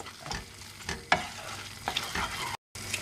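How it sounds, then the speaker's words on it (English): Okra being stirred into a simmering seafood stew, with sharp utensil scrapes and clanks against the pot over a steady bubbling sizzle, close and fairly loud, with a brief silent break near the end. "I'm going to go ahead now to add the okra. Stir them all and allow them to continue cooking for another 4 minutes."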